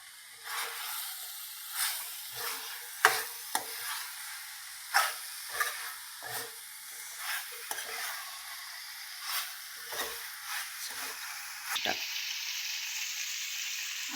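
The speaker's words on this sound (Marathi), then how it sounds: "हे बी थोडं परतून घेऊया आपण" Cauliflower and seeds sauté in a pan, a soft frying hiss broken by repeated scraping stirs of a spoon against the pan, irregular strokes spaced a second or so apart, moderately quiet with no talk.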